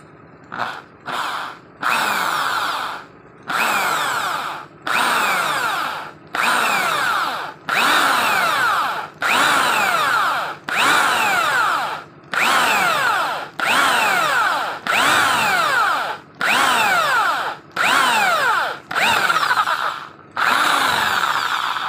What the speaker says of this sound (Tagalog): Okay, butasan na natin. Alright, gamit ko ay 4mm na metal drill bit.